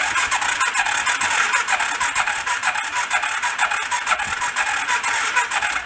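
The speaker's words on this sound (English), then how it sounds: "let's give her a crank" Rat rod quad engine cranking over with the spark plugs out for a compression test, a steady rapid whirring churn from the starter that runs continuously up close with faint scraping squeal.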